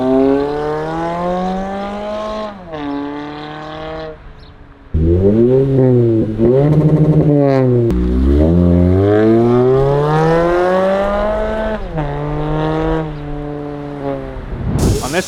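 Toyota Camry exhausts revving with a muffler delete compared against a Magnaflow system, loud close engine note rising and falling through repeated throttle blips, each rev climbing in pitch and then dropping back to idle.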